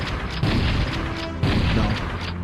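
Two heavy shotgun blasts spaced about a second apart in a Super Mario 64 mod where paintings are shot, each a loud booming report with a rumbling tail.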